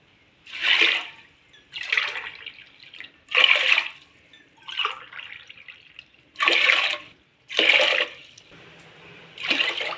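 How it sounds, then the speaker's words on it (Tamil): Water pours in several separate bursts with pauses between them, splashing into a pressure cooker close by. "அஞ்சு டம்ளர் தண்ணி ஊற்றலாம்"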